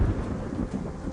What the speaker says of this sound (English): I think we still hear that thunder kind of crashing around